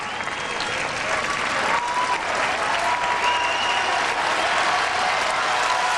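Spectators at a 2005 US Open tennis match between Rafael Nadal and Scoville Jenkins applaud loudly and steadily, a dense wash of clapping and cheering filling the stadium throughout.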